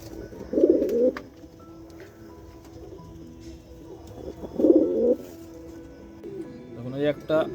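A male Face of Beauty pigeon coos in two soft, low bursts a few seconds apart, close by, with someone speaking briefly at the end.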